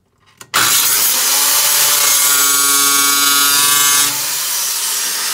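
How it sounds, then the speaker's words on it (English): An angle grinder cuts down a metal stud on a gauge bezel, starting with a sudden loud shrieking whine that holds steady for several seconds before the pitch drops as the cut eases off. "now we need to take the angle grinder and just cut the stud down"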